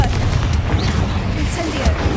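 A Confringo blasting spell is cast in Hogwarts Legacy, a loud, dense booming blast with crackling bursts that fills the whole moment, and a faint voice is mixed in.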